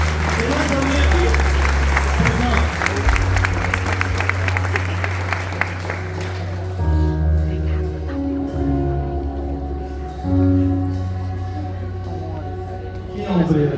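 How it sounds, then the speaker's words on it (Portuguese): A church congregation applauds at an evening worship service, broad clapping filling the room for about six seconds before giving way to sustained organ-like music and a voice speaking over it. "Você pode aplaudir Jesus para mim?"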